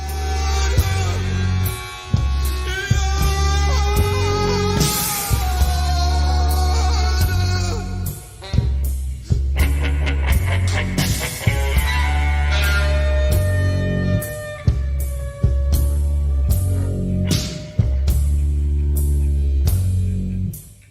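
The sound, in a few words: A song playing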